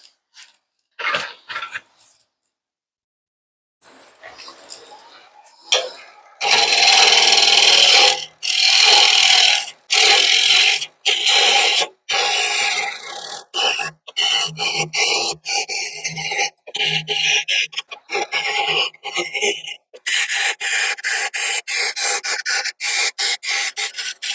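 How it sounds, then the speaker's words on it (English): A hand scraper works the bottom of a turned wooden bowl, flattening and blending it with repeated rasping strokes. The strokes are loud and close, alternating with short pauses in a steady rhythm. "I think now we can go back to our scraper, flatten off that bottom, and get it all blended together."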